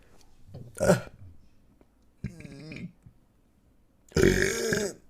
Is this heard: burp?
yes